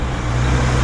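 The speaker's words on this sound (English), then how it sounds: "That's a big bus." Large city bus driving along a street in Qaqortoq, Greenland, giving a steady, loud low engine rumble with road noise throughout the short moment, no talking over it.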